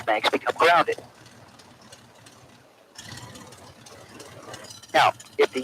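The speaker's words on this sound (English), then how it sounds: "We should hear the engine start to quit because of ignition loss as both mags become grounded." An aircraft piston engine idles with a low steady rumble that dips and stumbles as both magnetos are grounded, heard faintly between bursts of speech.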